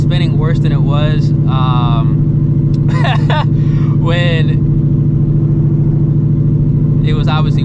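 A 900 HP Shelby GT350 makes a loud, steady, heavy engine drone through the whole stretch while someone talks over it.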